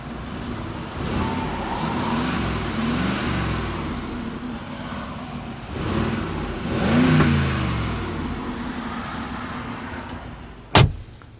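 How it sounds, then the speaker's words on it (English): A 2019 Mercedes G500 AMG engine revs through its exhaust in a few deep, swelling pulls, close by, with a sharp click near the end. "So really nice deep sound, even if you have closed door. And with open door it's even more. So here is the exhaust."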